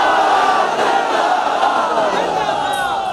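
A large crowd loudly chanting a religious slogan in unison, a sustained massed roar of voices that holds steady before tapering slightly at the end.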